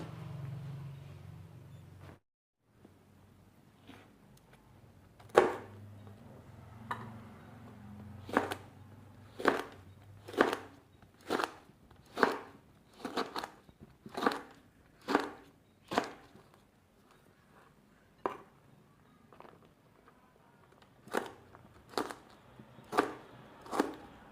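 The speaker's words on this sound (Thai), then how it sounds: "รอพริกที่เราล้างตะกี้ก็มาหั่นนะคะ" A knife chops red chili peppers steadily on a cutting board, crisp regular strikes in bursts with brief pauses, close and clear, with no talking.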